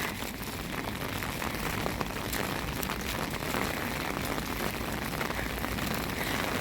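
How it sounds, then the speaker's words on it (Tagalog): Heavy rain pours down steadily and close, a dense continuous hiss of drops striking surfaces with no break, loud and even throughout. "Panay ulan na talaga."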